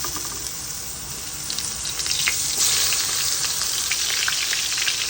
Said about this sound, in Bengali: আমি সরিষার তেলে বেগুন ভাজতেছি